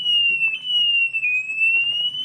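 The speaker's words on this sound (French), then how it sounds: "donc du coup j'ai mon système d'alarme." A home alarm system sounds a steady, loud high-pitched electronic tone that wavers slightly in pitch, with faint background noise beneath.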